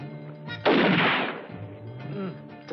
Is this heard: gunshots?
yes